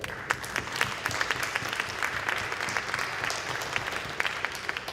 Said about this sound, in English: So I'd just like to give them a round of applause before we finish today.